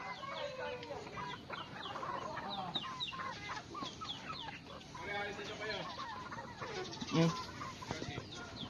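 Chickens in a small garden cluck and chatter continuously, many overlapping calls close by with a sharper squawk near the end, and a person speaks softly now and then.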